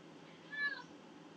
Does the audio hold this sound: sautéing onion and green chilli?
no